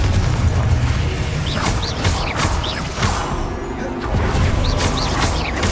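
Crashes, thuds and booms from a Confringo fire spell in Hogwarts Legacy, loud and dense amid continuous battle noise, with brief whooshing effects overhead.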